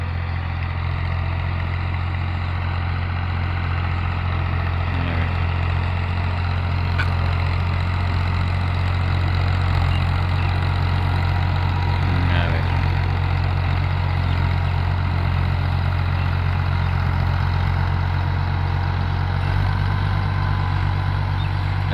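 A tractor engine runs steadily in second gear, pulling an unloaded ten-foot rear implement across a field after sowing; a constant low diesel drone holds throughout, close and fairly loud, with no talk.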